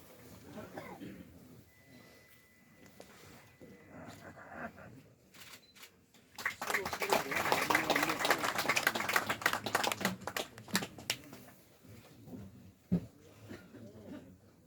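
An audience at a commemorative ceremony breaks into a few seconds of dense clapping after an introduction, with a voice speaking before and after.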